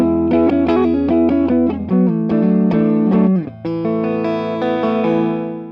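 An electric guitar is played through a VOX AC30 Custom or TB18C1 amplifier with reverb, picking out a run of ringing, sustained notes and chords that end in a long reverberant decay.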